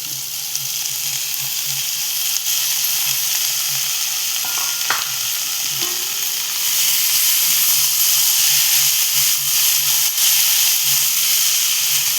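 Potatoes frying in a pan with sautéed tomatoes for a Marathi onion-tomato-potato dish, a loud steady hiss and sizzle with a few stirring clinks, growing slightly stronger partway through, no talking.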